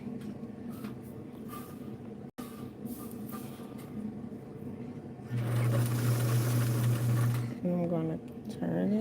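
A White zigzag sewing machine, Model 782, starts running partway through with a loud, steady mechanical hum and whir that lasts about two seconds, with a person speaking before and around it.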